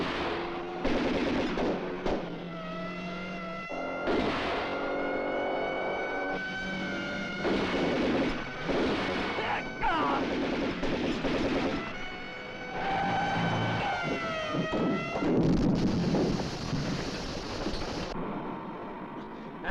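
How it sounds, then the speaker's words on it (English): Gunfire crackles through a crime action movie scene, repeated shots and bursts mixed with shouting voices, music and engine-like noise, fairly loud throughout. "No, Marcel, don't shoot!"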